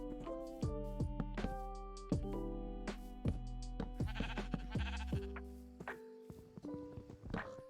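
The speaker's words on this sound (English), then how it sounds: "Well, we have sheeps now." Sheep bleat repeatedly in the video game Minecraft, several overlapping calls over a steady game tone, close and fairly loud with no talk.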